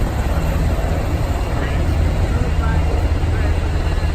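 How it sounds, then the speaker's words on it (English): Marine One helicopter lifts off, a loud continuous rotor and turbine roar filling the air, with people talking beneath the din. "Marine One helicopter."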